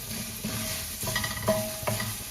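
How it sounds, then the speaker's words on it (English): Ginger, garlic and chilies stir-fry in a pan without oil for tofu Manchurian, a steady soft sizzle broken by a few scraping stirs of a utensil against the pan. "the ginger and garlic and these chilies when stir fried is releasing this absolutely amazing aroma here."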